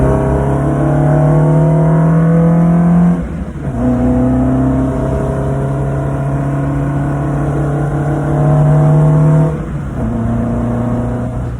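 A car engine fitted with independent throttle bodies revs loudly and close by, with two long rising blips that briefly drop away before settling into a sustained, droning hold, with no voices over it.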